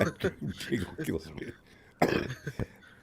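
A man coughs in short, harsh bursts, a quick cluster followed after a pause by another pair, close and dry, in a quiet room.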